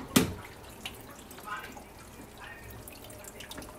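Dishwasher starting up for a load of Indian utensils, with faint water trickling and dripping inside, a brief clack at the start and a quiet wash of running water underneath.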